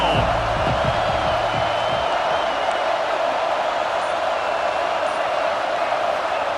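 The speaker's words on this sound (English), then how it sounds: "This crowd ready to make its presence known." Stadium crowd roaring steadily at an NCAA college football game in a video game, a broad, continuous wash of cheering that holds at an even, loud level throughout with no pauses.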